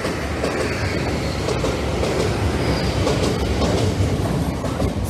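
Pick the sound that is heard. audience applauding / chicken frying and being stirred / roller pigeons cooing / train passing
train passing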